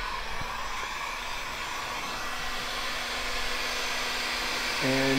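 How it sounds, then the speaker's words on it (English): A heat gun blows hot air over vinyl wrap on a car hood, a steady, close, airy whoosh that holds evenly throughout, no voices. "then what you want to do is take your heat gun"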